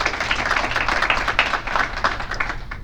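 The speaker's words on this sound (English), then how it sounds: "please give her a round of applause" Audience at an evening cybersecurity meetup applauding, a dense crowd of hand claps rising and falling for a few seconds, moderately loud in a room.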